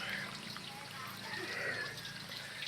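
Natural spring water trickling near Mount Makiling in Laguna, Philippines, a faint steady babble and dribble of flowing water with soft background noise.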